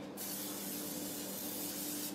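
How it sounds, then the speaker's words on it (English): A continuous spray of cooking spray onto a pan hisses for about two seconds, close and steady, stopping abruptly. "now what I'm gonna do is I'm gonna spray my pan."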